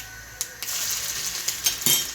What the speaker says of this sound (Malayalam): എന്നിട്ട് ഇതിലോട്ട് കൊച്ചുള്ളി അരിഞ്ഞിട്ട് കൊടുക്കാം